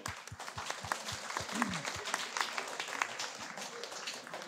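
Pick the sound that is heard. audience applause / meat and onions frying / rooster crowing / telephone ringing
audience applause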